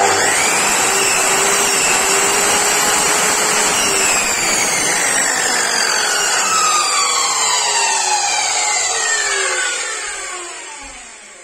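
An electric miter saw runs on power from an off-grid solar inverter at a house under construction, giving a loud, steady whining roar with a pitch that slowly falls for about ten seconds before winding down.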